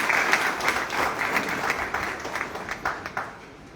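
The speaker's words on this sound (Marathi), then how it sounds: "त्यांचा एकदा आपण जोरदार टाळ्या वाजवून" Loud applause from an audience at a community event in the rain, dense clapping filling the space for several seconds and thinning slightly toward the end.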